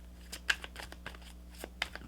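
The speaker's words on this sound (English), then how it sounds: "I'm going to shuffle these cards a little bit more." Tarot cards being shuffled by hand close up, a series of soft, irregular papery slaps and riffles over a low steady background hum.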